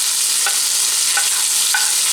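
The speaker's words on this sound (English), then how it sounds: "I'm going to saute my ham, tomatoes, green pepper, and onion" Ham, tomatoes, green pepper and onion sauté in an oiled pan with a steady, bright sizzle, broken by three short scrapes of stirring.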